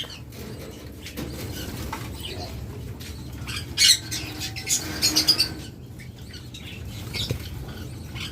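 Many caged birds for sale chirp and squawk in short bursts over a rustling, pattering background, with sharp calls clustering near the middle and some wing flutters.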